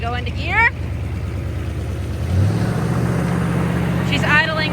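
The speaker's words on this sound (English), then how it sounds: "She's idling quite high." A long-dormant 1959 Cadillac engine idling high, a steady low drone close by that rises slightly midway, with a person speaking over it at the start and end.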